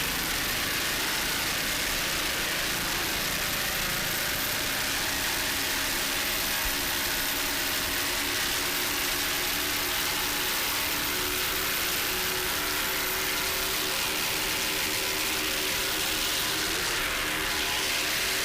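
Racing powerboat engines roar steadily as the boats round turns during an offshore race off a Fort Myers beach, a dense continuous drone heard from a distance and mixed with broadband wind-like noise.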